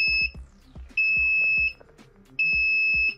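Engine over-temperature alarm buzzer fitted to a VW bus with a Subaru engine conversion, giving three loud, steady high-pitched beeps in an even rhythm, each about three-quarters of a second long, with faint mechanical tapping between them.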